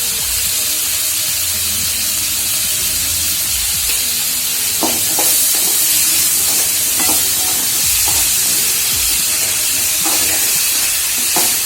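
Vegetables for kurma sautéing in a pan with salt, a loud continuous sizzle and hiss with occasional stirring scrapes and taps, close up and without voices.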